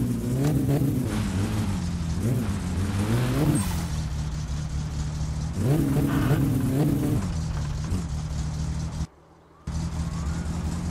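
Satsuma car engine in the video game My Summer Car, revving up and down in repeated surges over a steady loud idle, with a brief cut-out near the end.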